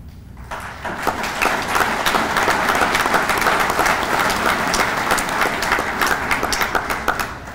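A room full of people applauds cadets at an Indiana American Legion award ceremony honoring the 2018 top cadet, dense clapping rising quickly and holding steady and loud before easing off at the end.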